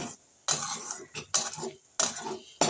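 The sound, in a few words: stirring chili paste into fish gravy in pan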